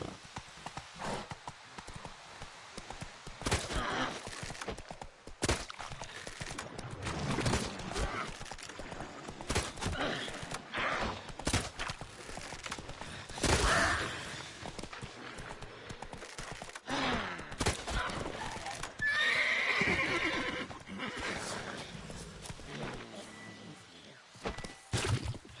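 A horse in a PS4 video game clip-clops and gallops with occasional whinnies, hoofbeats steady and fairly loud, mixed with other game sounds and some voice.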